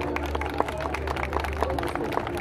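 Audience at a breeding cattle show in Rudawka Rymanowska applauding as a girl leads her heifer into the ring, dense steady clapping from a crowd throughout the short moment.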